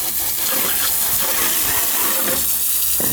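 Close, steady hiss of a water spray washing down a John Deere 430 lawn tractor, continuous broadband rushing with no talk.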